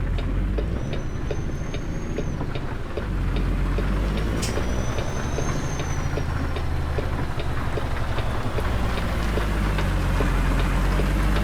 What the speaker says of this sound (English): Is it still raining? Yeah, it's still raining.